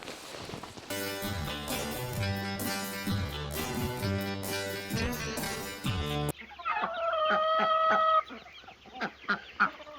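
Music plays at first, then meat chickens and Orpingtons cluck and squawk close by in a busy, repeated chatter.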